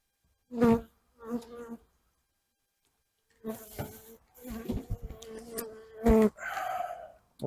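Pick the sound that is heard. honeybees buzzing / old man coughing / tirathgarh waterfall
honeybees buzzing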